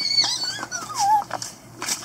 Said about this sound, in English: They're nice dogs. They're not scary.